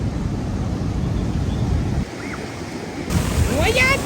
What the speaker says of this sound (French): Il y a des vagues grosses comme ça.